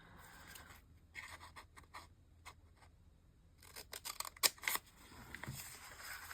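Scissors cut through paper in quick, quiet snips and scratchy crunches, with a short burst of denser clicks and rustles toward the end.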